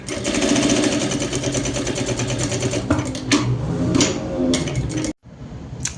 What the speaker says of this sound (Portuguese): Vamos passar essa costura aqui em toda a volta